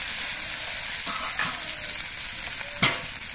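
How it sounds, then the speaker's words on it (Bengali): Fried vegetables are stirred with turmeric powder and ground spice paste in a pan, a soft continuous sizzle with a few scraping stirs, close and fairly quiet, no voices. "এবার এগুলো দিয়েও নেড়ে চেড়ে কিছুক্ষণ কষিয়ে নিতে হবে"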